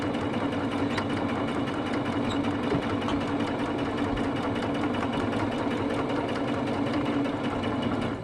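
A sewing machine runs steadily and closely, its motor whirring in an even, continuous drone as it stitches fabric down.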